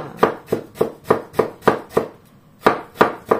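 A knife chops ginger on a cutting board for a fish dish, about eleven crisp, evenly spaced strikes with a brief pause near the end, close and alone.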